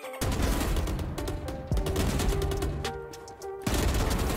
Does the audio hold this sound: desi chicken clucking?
no